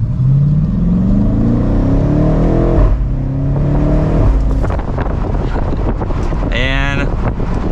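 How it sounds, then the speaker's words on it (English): Exhaust of a 2024 BMW M8 Competition Convertible with the top down under mild acceleration, rising engine note climbing through gears amid wind buffeting, loud and close, with a brief shifting tone near the end. "let's give it a mild acceleration with the top down. Hopefully you'll be able to hear that exhaust."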